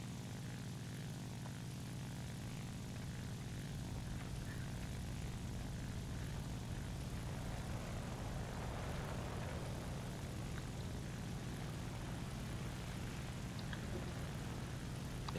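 Engine drone of a Japanese Ki-44-II Otsu fighter plane in War Thunder, a faint, steady propeller hum that holds evenly throughout with no talking.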